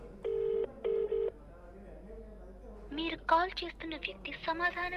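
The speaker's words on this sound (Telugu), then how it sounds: "రింగ్ అవుతోంది ఫోన్" Two short electronic phone ringing tones, like a double ring signal, sound clearly at the start of an outgoing call, then a voice starts talking over a faint background.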